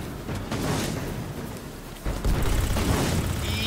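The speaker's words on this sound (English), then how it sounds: "I thought I heard an explosion." Explosion in the video game Destiny 2, a deep booming blast that swells over a rumbling low-end bed, with a louder burst about two seconds in and continuing heavy noise afterward, no talk.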